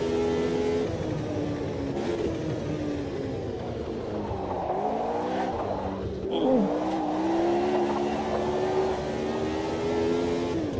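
Race car in Automobilista 2 pulling out of the pits on cold tyres, its engine a steady droning whine that dips and climbs through gear changes, close and continuous throughout.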